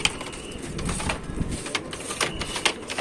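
Racing pigeons being aired at a loft on a sunny day: soft cooing and brief bursts of wing flaps and rustles sound close by over faint ambient noise.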